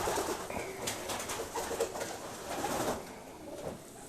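Racing pigeons coo and rustle in a loft, a steady murmur of soft, overlapping calls close by with no talking.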